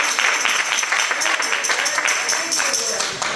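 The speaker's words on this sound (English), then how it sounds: "clap your hand and give God a praise" Church congregation clapping hands during praise, a dense run of steady claps filling the room, close and fairly loud, with voices mixed in underneath.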